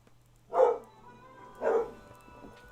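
Two muffled barks from a dog, about a second apart, over a faint steady hum in the background.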